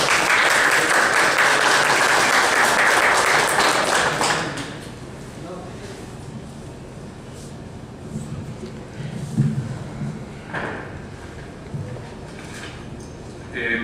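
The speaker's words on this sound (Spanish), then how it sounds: "Les damos un fuerte aplauso, por favor." An audience at a social psychology conference applauds presenters with loud, dense clapping for about four seconds, then it fades to scattered claps and quiet room noise.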